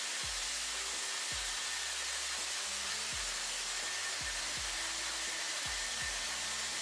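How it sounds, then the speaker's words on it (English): Hair dryer blowing steadily on its hottest setting while drying a section of hair, a continuous close airy roar with faint low thumps from handling, no talking. "it took exactly 3 minutes to dry that one piece of hair"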